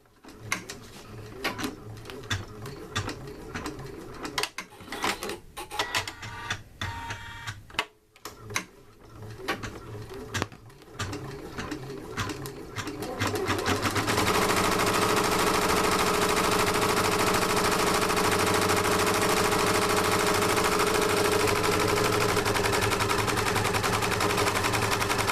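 Embroidery machine stitching out a patch, a rapid mechanical clatter of needle strokes that settles into a loud continuous whirring hum.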